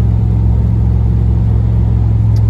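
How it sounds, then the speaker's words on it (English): A 1990 Chevrolet K1500 Silverado 4x4 pickup truck driving in overdrive, giving a steady, loud low engine rumble and road drone that holds even throughout with no talk over it. "This truck just gets up and goes."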